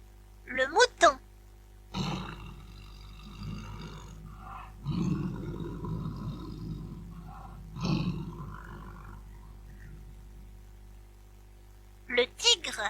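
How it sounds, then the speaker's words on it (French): A tiger gives a series of deep, rumbling roars and growls in a long stretch of rough, throaty bursts, bracketed by brief chirpy sounds at the start and end. "Le tigre."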